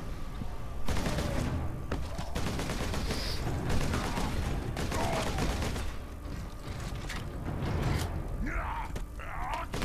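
Bursts of gunfire ring out in the video game Warhammer 40K: Space Marine, dense rapid volleys with heavy thuds layered over a busy battle din, loud and close throughout.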